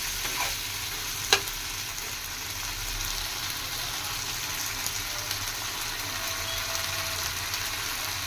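Chicken fries village-style in a pan, giving a steady loud sizzle with scraping stirring and one sharp clack of the utensil near the start, with no voices.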